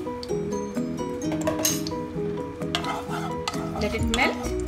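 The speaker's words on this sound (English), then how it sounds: "Now in the same oil, put 1 teaspoon of ghee." Ghee melts into hot oil in a pan left from frying cauliflower, giving a soft sizzle broken by metallic clinks and stirring scrapes of a utensil against the cookware.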